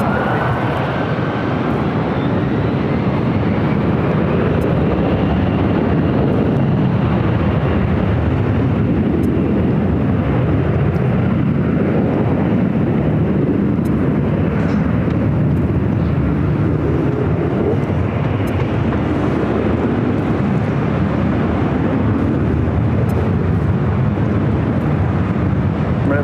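A Delta Airlines A321 airliner arriving from Detroit at Los Angeles airport gives a loud, steady jet roar that swells and sustains throughout, with no talking.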